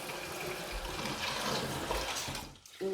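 Steady rush of water pouring into a pot of rice for a few seconds, fairly close, then cutting off abruptly.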